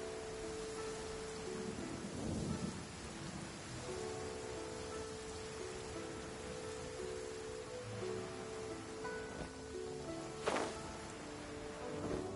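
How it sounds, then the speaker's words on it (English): Rain falls in the Genshin Impact video game as a soft, continuous wash of drops, with game music and tones layered over it and a brief brighter splash near the end. "Oh, it's raining."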